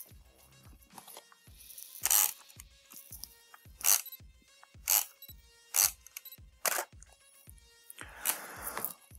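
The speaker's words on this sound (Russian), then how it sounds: "Диафрагма, автофокус, но вот такие звуки." A repaired camera lens cycles its aperture and autofocus, giving close, faint whirring motor runs broken by a series of sharp clicks and crunchy grinding bursts at irregular intervals.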